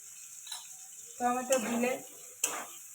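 Salted tomatoes hit a hot pan, giving a close sizzle with stirring scrapes and a short clatter of a utensil. The sizzle swells in the middle and there is a sharp knock near the end.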